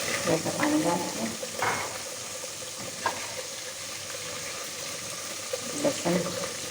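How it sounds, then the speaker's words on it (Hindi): A little water goes into a pan of browned onion, tomato, cumin and garam masala while aloo tahari cooks, bringing a hissing sizzle with scattered clinks and stirring, and a voice is heard faintly at times. "थोड़ा सा पानी डाल के"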